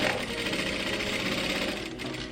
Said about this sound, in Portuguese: Você dobra uma vez e faz uma costurinha bem na bordinha